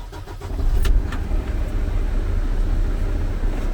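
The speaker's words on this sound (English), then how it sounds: "I have to safe start my vehicle to rebuild air pressure" A truck engine cranks and catches to rebuild air pressure for the brakes, a brief starter whir giving way to a steady, close, low idling rumble that holds to the end.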